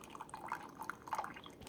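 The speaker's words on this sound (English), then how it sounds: "So right now we're running the vinegar through." A Keurig K Supreme Plus coffee maker runs vinegar through during descaling, giving faint, steady dripping and trickling liquid with small splashes over a low hum.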